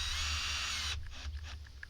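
A power drill whirs steadily for just under a second as it bores a hole into a boat's plastic, then cuts off, leaving a few faint clicks and taps.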